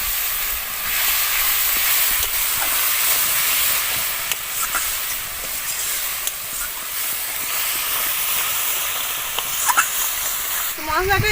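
Spices with chili powder, sugar and salt fry in hot oil for a Bengali pumpkin fritter curry, giving a steady, bright sizzling hiss that runs the whole time, with a few faint clinks near the end.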